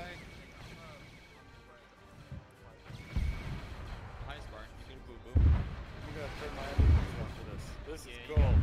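Gunfire in Arma 3 during a compound defense: a few heavy, booming shots land spaced apart, some distant and some closer, over a low rumbling background.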